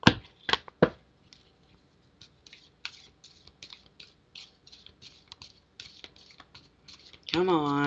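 Tarot cards being shuffled by hand at a live reading, a few loud slaps at the start followed by a long run of light, rapid riffling taps, ending in a burst of louder noise.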